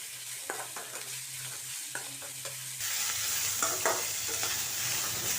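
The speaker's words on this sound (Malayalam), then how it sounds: "ഇനി ഇതിൻ്റെ കൂടെ കുറച്ച് ക്യാപ്സിക്കം കൂടിയിട്ട് നന്നായി ഒന്ന് വഴറ്റി കൊടുക്കാം" Beans, cabbage and capsicum being stir-fried for Maggi noodles, a soft sizzle under scraping and stirring strokes that grows louder and brighter partway through.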